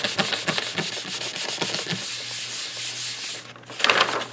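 Steady rubbing of a hand-decorated travel journal cover being pressed down, a dry scraping friction sound in quick repeated strokes close up, with a brief pause before a final louder burst, no talking.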